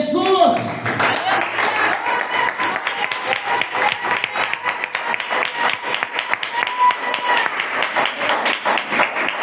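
A church congregation applauds during a Friday service, dense, loud and sustained clapping filling the room, with voices calling out underneath at the start.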